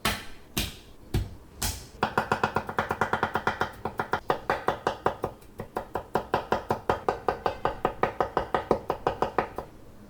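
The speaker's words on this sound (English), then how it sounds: "Cut the ginger into a few small pieces, and then we'll smash each piece and mix it up" A knife chops and smashes ginger pieces on a board: a few heavy separate whacks first, then a long run of rapid, evenly spaced chops, close and crisp, with no talking.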